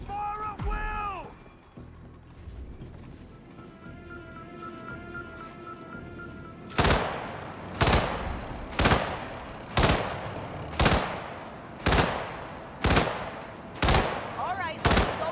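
Gunshots in a Hitman video game: after a stretch of voices and tonal sounds, a steady series of about nine sharp, evenly spaced shots rings out roughly once per second.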